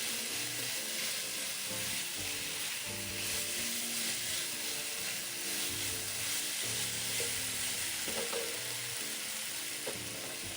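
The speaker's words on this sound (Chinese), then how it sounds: "继续拌炒，锅底水分完全收干后" Yam bean filling is stir-fried in a wok over low heat with a little sweet black soy sauce, giving a steady close sizzle and frying crackle with scraping stirring strokes throughout and no voices.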